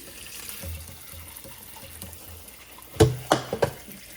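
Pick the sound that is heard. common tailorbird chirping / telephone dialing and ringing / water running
water running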